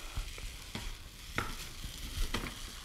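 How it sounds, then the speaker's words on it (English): Garlic and ginger fried rice stir-fried in a pan: a soft, steady sizzle broken by several sharp scrapes and clinks of the utensil against the pan, close and fairly quiet, with no talking. "we're going to constantly stir"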